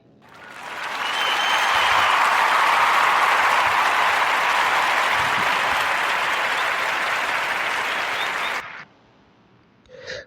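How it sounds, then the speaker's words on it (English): A warm round of applause for the Next Act brothers swells in quickly, holds loud and dense for several seconds, then cuts off abruptly, leaving near silence and a brief soft sound at the end. "warm round of applause for those innovative brothers"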